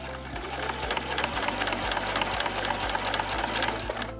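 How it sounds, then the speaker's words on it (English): A sewing machine stitches a scrap-fabric placemat with a fast, steady mechanical chatter of needle strokes, close and continuous for a few seconds. "just take my time and sew with about 1/8 of an inch seam allowance all the way"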